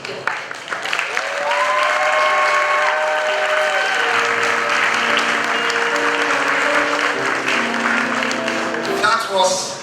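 A graduation ceremony audience claps for a speaker as she finishes, applause swelling to a full, steady roar that holds for several seconds, with music playing underneath, then easing off as a voice comes in at the end.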